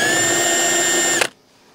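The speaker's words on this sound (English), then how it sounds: "you take a chamfer tool and just chamfer it out." Power drill driving a chamfer tool into the gel coat around a hole on a 1972 Glasspar boat, a loud, close, high steady whine lasting about a second before stopping abruptly.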